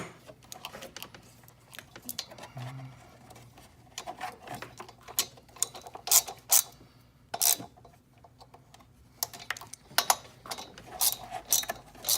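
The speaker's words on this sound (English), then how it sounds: "once we get them tightened down, we'll get them with the ratchet" A ratchet wrench tightening intake manifold bolts on a 2015–2017 Mustang GT engine, giving quiet, irregular clicking bursts spread through the clip with workshop clatter and no talk.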